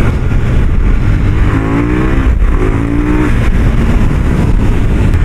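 Powerful engine roars close and loud without pause, rising in pitch through two quick surges, with heavy wind rush throughout.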